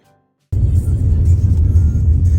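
A 4x4 vehicle drives along a rough road in Iceland, its steady low engine and road rumble starting abruptly after a brief silence and continuing loud and close.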